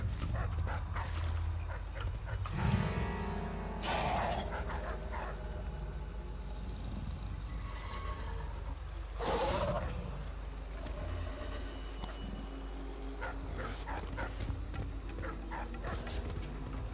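Dogs in the game Dishonored bark and yip in a few short bursts near the start and middle, set against a low rumbling background, with a person talking over parts of it.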